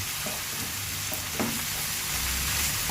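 Rice with vegetables, egg, carrot and shrimp-paste chili sauce stir-fried in a pan, a steady close sizzle with scraping spatula strokes throughout, no voices.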